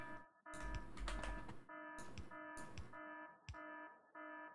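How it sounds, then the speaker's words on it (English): A steady, repeating electronic alarm tone from the video game Factorio, Seablock modpack, sounding alongside louder bursts of game noise throughout. "that alarm is possibly a little bit louder than I really wanted"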